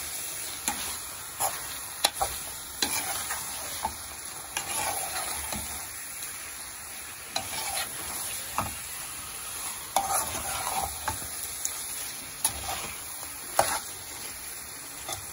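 Biryani masala is stirred in a pot as it sizzles, with a soft continuous frying hiss broken by regular scraping and tapping strokes from the spoon, fairly quiet and close with no voices.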